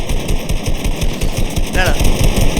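Rapid automatic gunfire from a Fortnite match, loud and sustained in continuous bursts, with a voice talking over the shooting.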